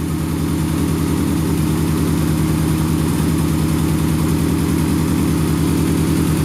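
A car engine idles steadily and evenly, running alone at close range with a constant low, throbbing drone and no other sounds.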